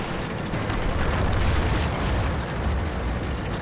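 Shells slam into a T-46 tank in the World of Tanks video game, a loud, continuous rumbling barrage of explosive booms over a few seconds, with no voice.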